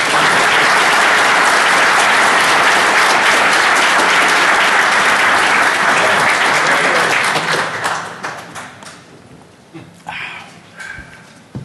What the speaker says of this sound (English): round of applause for our new speakers